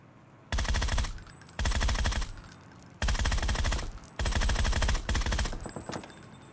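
Gunfire in the video game PUBG: four loud bursts of rapid automatic fire, each about a second long with short pauses between, the rounds rattling in quick, even succession.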